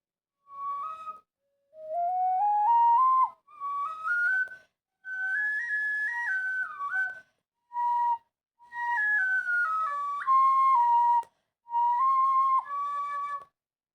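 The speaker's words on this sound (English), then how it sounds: "Suddenly I could play it because it's so easy to play the tin whistle." Solo tin whistle melody from a game tune, a series of clear sustained and sliding notes in short phrases with brief gaps, played close and with no talking.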